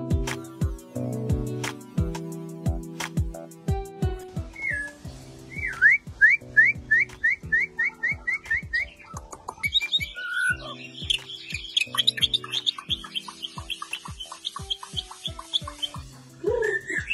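A white-rumped shama (murai batu) sings clear, varied whistled phrases and chirps, close and bright, with rhythmic percussive music playing underneath throughout, at a breeding facility.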